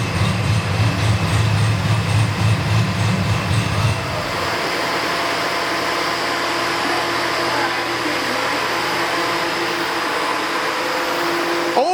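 A ProCharged supercharged 1967 patina Chevrolet C10 pickup runs on a dyno, its engine a loud, steady roar that drops after about four seconds to a sustained high whine and rush, continuous throughout.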